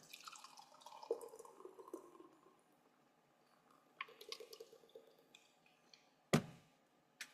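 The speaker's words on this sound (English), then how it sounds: "That was a that was a delightful sounding pour and pop." Founders Dirty Bastard Scotch Ale, an 8.5% beer, is poured into a glass with soft gurgling and fizzing drips, then a sharp pop near the end, quiet and close with no talking.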